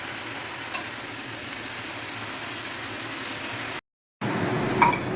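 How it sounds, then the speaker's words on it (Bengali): Pumpkin greens (saag) are stirred in a pan with a steady close sizzle and scraping, broken by a short silent gap before the frying noise resumes. "কুমড়ো শাকটা দেওয়ার পরে এবার একটু নেড়ে ছেড়ে দেবো"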